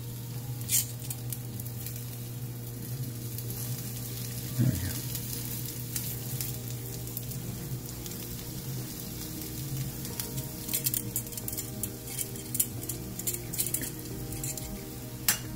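Mushrooms sizzle steadily in a hot cast iron skillet, a continuous bright frying hiss with occasional pops and a brief stirring scrape midway, under a low background hum.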